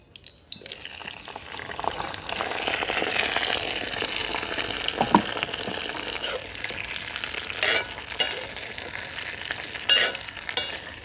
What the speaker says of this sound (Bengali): এবার ভেন্ডিগুলো দেবো